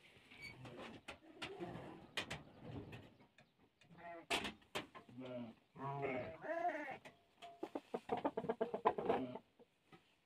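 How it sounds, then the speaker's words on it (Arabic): Chickens in a coop give short, irregular clucks and calls. The sounds are close but fairly quiet and come in scattered bursts, with brief pauses between them. "ودابا دخلنا نشوفوا الفريخات، وغنشوفوا الحمام، وغنشوفوا الدجاج"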